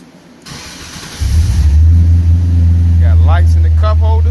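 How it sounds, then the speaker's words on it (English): An Oldsmobile G-body car is started with a push button. The starter whirs briefly, then the engine catches and settles into a loud, steady, low idle heard up close. A voice speaks briefly over the idle near the end. "So I'm gonna cut the car on, and we're gonna see what's going on."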